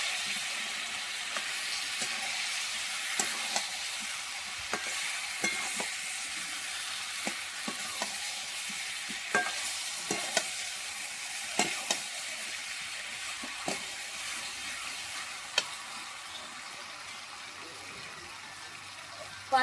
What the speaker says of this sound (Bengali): এবার আমি এঁচোড় আলুটা মশলার সঙ্গে দিয়ে 5 মিনিট একটু কষিয়ে নেব